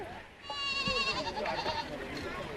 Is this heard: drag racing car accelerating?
no